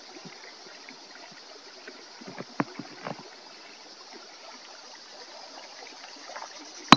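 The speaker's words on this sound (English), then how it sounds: "As you can hear, it's very calming because of the water." Creek water flows at Red Rock Crossing in Sedona, a soft, steady hiss and trickle with a few faint splashes and clicks scattered through it.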